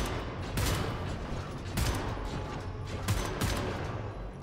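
Gunfire in the shooter game Wolfenstein: The New Order, heard as loud rolling bursts that recur every second or so over a dense, noisy battle backdrop, with no talking.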